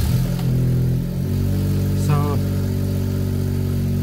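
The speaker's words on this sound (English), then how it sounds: "Now I'm going to start the engine." A Smart Fortwo micro-hybrid with a 1.0 L engine starts up and settles into a steady, close idle. A brief voice is heard over the running engine.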